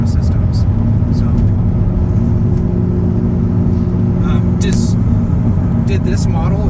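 An Audi R8 cruises through the Ozark Mountains, its engine a loud, steady low rumble heard from inside the cabin, with people talking over it throughout.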